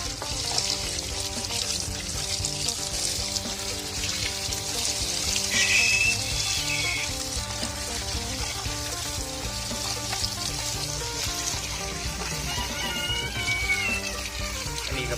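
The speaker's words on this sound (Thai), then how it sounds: "น้ำไหลผ่านก็ดีนะครับ" Tap water runs steadily over bamboo shoots being rinsed clean for sour fermented bamboo shoots, a continuous hissing wash with faint handling sounds throughout, no talk.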